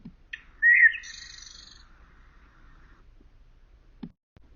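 A recorded blackbird gives a single short phrase, a bright whistled note sliding into a brief twittering trill, then quiet. Nothing else follows except a faint low knock near the end.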